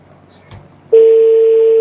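A phone call being dialed, with faint clicks and a short tap before a loud, steady single-pitch tone starts halfway through and holds to the end.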